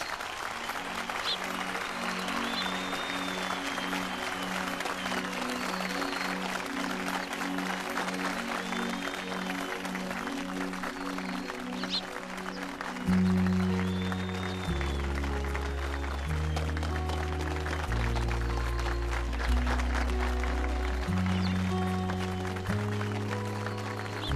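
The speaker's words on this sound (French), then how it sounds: "Faites un tonnerre d'applaudissements." A crowd applauds loudly and continuously at an outdoor competition where a new bicycle is the prize, while a dramatic musical score with low, stepping tones plays underneath.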